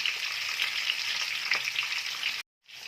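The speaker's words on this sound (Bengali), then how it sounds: "দিয়ে দিয়েছি আলুগুলোকে এর মধ্যে। এখন আমি এটাকে ভালো করে ভাজা করে নেব" Potatoes frying in a pan for Bengali aloo dum give a steady, close, bright sizzle that crackles continuously, then cuts out abruptly near the end before briefly returning.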